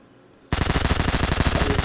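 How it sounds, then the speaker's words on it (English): An NPC fires at the player in the video game Ghosts of Tabor, a loud, close, sustained burst of rapid automatic gunfire that cuts in abruptly after a quiet moment and continues without pause. "Who's shooting at us?"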